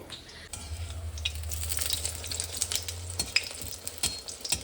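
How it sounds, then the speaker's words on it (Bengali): Eggplant fritters (beguni) frying in hot oil, a steady crackling sizzle with some stirring and pan contact, close and fairly loud throughout, with no talking. "আমি গরম গরম এখন বেগুনি করছি"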